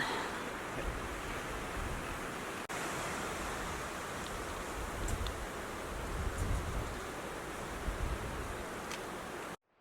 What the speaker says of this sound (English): It's getting windy though, especially as we get up higher. It's pretty windy up here.